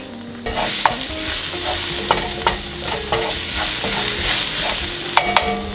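Fresh garlic fries in oil in a pan with a loud, close sizzle, punctuated by several sharp scrapes and clicks of a utensil stirring it.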